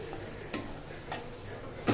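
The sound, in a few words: stirring curd into a cooking curry in a pan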